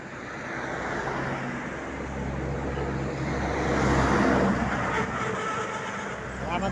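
Steady highway traffic in Bulacan, Philippines, with cars and larger vehicles rushing past nearby in a continuous loud roar that swells briefly midway.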